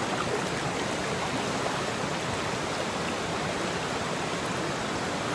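Steady flowing water from a small stream in Pedro Vicente Maldonado, a continuous bright rushing babble close by with no voices.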